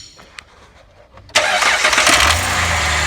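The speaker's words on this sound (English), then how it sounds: "we need to take the socket off the crank before we start the engine up" A Dodge Ram 4.7 engine cranks briefly after a quiet garage moment, then catches and settles into a loud, steady idle right up close.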